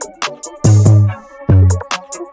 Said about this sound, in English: actually delay that first 808 note and just move it to the right